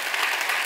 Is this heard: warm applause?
yes